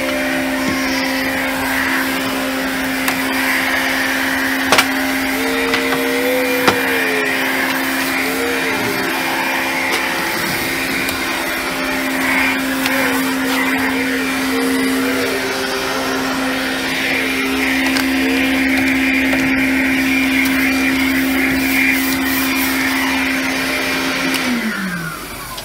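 A household vacuum cleaner runs steadily and loud at close range for the whole stretch, its motor whine holding a constant drone with a slight pitch wobble partway through, then winding down at the very end.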